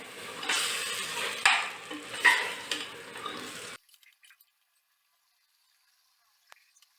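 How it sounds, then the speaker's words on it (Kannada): Ingredients for Mughlai chicken pulao frying and being stirred in a pan, a steady close sizzle with a few scraping stirs and clinks for about four seconds before it cuts to near silence. "ಒಂದೆರಡು ನಿಮಿಷ ಫ್ರೈ ಮಾಡೋಣ ಇದರಲ್ಲೇ"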